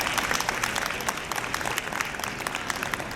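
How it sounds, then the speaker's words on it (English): An audience applauding the actors after a therapy-dog demonstration, dense continuous clapping from a crowd in a room, lasting the whole stretch. "our actors need a great round of applause"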